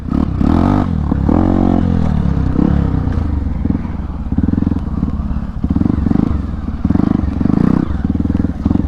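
A Hero Impulse off-road motorcycle rides over a bumpy off-road track, its engine loud and near, rising and falling with throttle changes amid rattles and scrapes.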